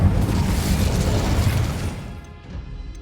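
A fiery burst from the Incendio spell in Hogwarts Legacy, a loud roaring whoosh with crackling rumble that gradually fades out toward the end, without any talking.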